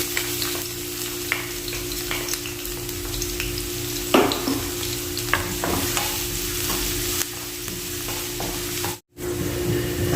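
Garlic sizzles and sautés in hot cooking oil in a pan, a steady close frying hiss with occasional stirring scrapes and clinks, with no talking.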